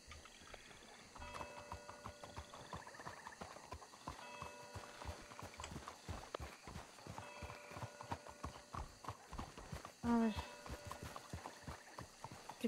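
Horse hooves clip-clopping in a steady, moderately quiet rhythm through most of the scene in the video game Red Dead Redemption 2, with a brief louder burst near the end and no talking.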